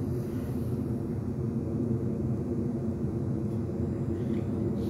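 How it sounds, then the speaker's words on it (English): A steady, low rumble of an airplane droning overhead, constant and moderately loud throughout, with no voices. "That's just an airplane."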